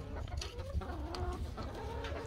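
A small flock of backyard chickens at feeding time, clucking and murmuring in overlapping, uneven bursts, fairly close but quiet, with no talking over them.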